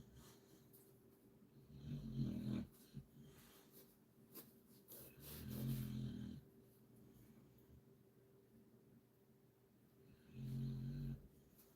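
A dog snores deeply nearby in a quiet room, three slow rasping snores spread several seconds apart, with a faint steady hum in the background.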